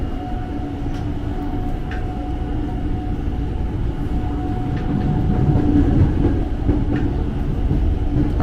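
A KRL commuter train moves along the elevated tracks at Manggarai station, a steady rumbling drone with faint rail clicks and a brief squeal, growing slightly louder toward the end.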